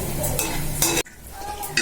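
Oil sizzles steadily in a hot pan while something is stirred, close and fairly loud, with a sharp scrape near the middle and the frying carrying on more quietly afterward.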